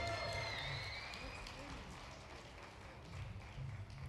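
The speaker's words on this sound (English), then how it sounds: "put your hands together" Audience applause at a dance awards ceremony in Las Vegas: a steady wash of clapping from a large crowd that fills the whole stretch, with crowd noise and voices mixed in and a slight swell near the end.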